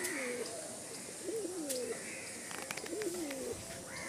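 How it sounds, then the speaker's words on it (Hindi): Pigeons coo softly on a village rooftop in repeated rolling calls, a few birds nearby with faint outdoor ambience and occasional light flutters. "छत पर बहुत सारे कबूतर"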